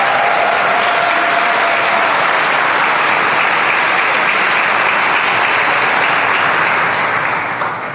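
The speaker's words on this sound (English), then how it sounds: "Let's give them a round of applause." An audience claps loudly and continuously at a Boys and Girls Club grand reopening and ribbon cutting, a thick wash of applause that holds steady and only eases slightly at the very end.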